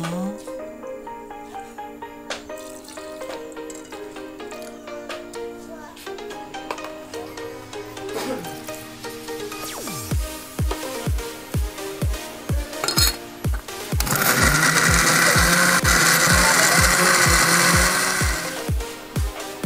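Spices for opor ayam, including kencur (aromatic ginger), ground into a paste in a home kitchen: a steady run of sharp rhythmic pounding strikes, then a loud continuous whirring grind for several seconds, following an earlier stretch of background music.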